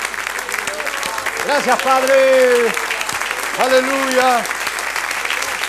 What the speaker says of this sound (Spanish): Denle un aplauso a mi hermano.